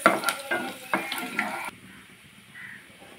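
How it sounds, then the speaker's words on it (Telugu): Chopped onion and ginger pieces fry in a pan with a bright sizzle and several sharp stirring clatters. After about a second and a half the sound drops abruptly to a faint background hiss. "చిన్నులపాయ ముక్కలు, అల్లం ముక్కలు వేసుకుందాము. ఫ్రై అవ్వాలి."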